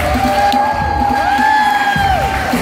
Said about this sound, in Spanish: el fuerte aplauso para ellos.